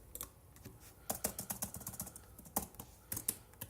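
Keys clatter on a computer keyboard in quick, uneven bursts of close, crisp clicks, with short pauses between runs and no talking.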